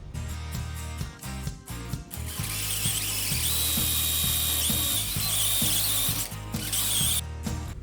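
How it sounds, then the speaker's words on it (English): A copper tube expander works hot copper tubing during a compressor and condenser replacement on a GE Zoneline PTAC unit, giving a close run of rhythmic ratcheting clicks over a continuous mechanical hum. "I'm also going to be using one of these copper tube expanders"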